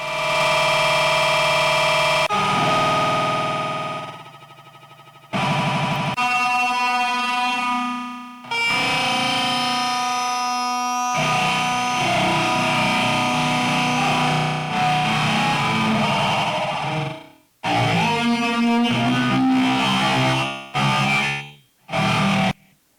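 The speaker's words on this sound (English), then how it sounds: "It's just a guitar with an echo pedal." Electric guitar played through an Electro-Harmonix echo pedal, producing heavily distorted, layered sustained tones with repeating echoes, swelling and cutting off in bursts with short silent gaps between phrases.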